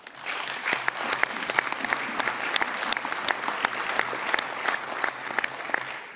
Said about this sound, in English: And thank you for the applause